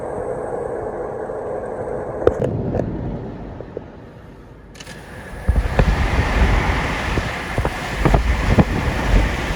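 Car cruising at about 65 miles per hour, with a steady roar of road and wind noise that dips briefly midway, then returns louder with buffeting rumble and scattered knocks, no speech.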